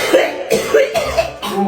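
Repeated coughing from a person with a sore throat, a handful of short harsh bursts spaced across a couple of seconds, close and fairly loud with a bit of voice between them.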